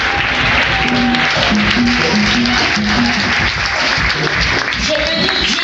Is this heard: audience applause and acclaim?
yes